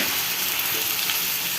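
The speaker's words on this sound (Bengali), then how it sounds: "তা আমি এইভাবে মিষ্টি কুমড়াটা ভাজি করি।" Cut pumpkin stir-fries in a pan with turmeric and chili powder, giving a steady, dense sizzle of hot oil that holds even throughout the short stretch, close and alone.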